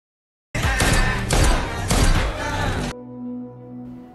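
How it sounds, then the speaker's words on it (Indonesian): A film gunshot scene with a sudden loud burst of rapid shots and impacts cutting in after silence, then ending abruptly into a low sustained musical drone. "Ratore menembak kepala Manish hingga tewas"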